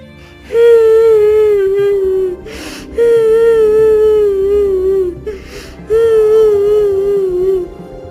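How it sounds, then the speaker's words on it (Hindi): Someone cries in a forest as a story sound effect, with three long wailing, sobbing phrases that slide downward, loud and close, separated by short gasping breaths. "ये रोने की आवाज किसकी है?"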